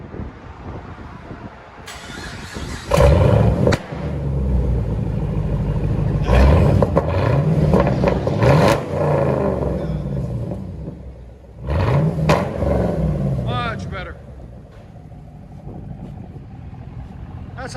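A 2012 Chevy Camaro SS convertible with a 6.2L LS3 V8, resonator and muffler deleted, revs loudly up close in several sharp throttle blips over a rumbling idle.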